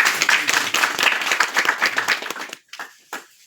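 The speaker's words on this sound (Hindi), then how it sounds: "इनके लिए भी एक बार तालियां हो जाए।" A room full of people at a farewell ceremony gives a short burst of loud, dense clapping that thins out into a few scattered claps before stopping.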